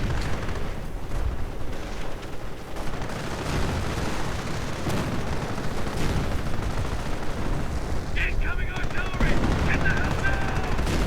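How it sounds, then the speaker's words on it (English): Sector artillery and gunfire in a strategy video game: a dense, continuous roar of machine-gun bursts and blasts with no letup, fairly loud throughout, with a brief tonal game effect near the end. "Sector Artillery absolutely obliterated that rifleman squad."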